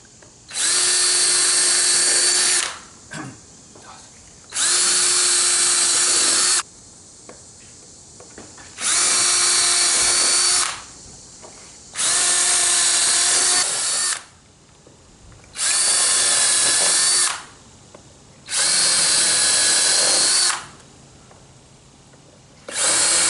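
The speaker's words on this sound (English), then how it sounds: "we're going to drill 3/16 pilot holes in each of these to mark our hole locations" A power drill bores 3/16-inch pilot holes into railing posts during a cable railing install. It runs in six loud, even bursts of two to three seconds each, separated by short quiet pauses.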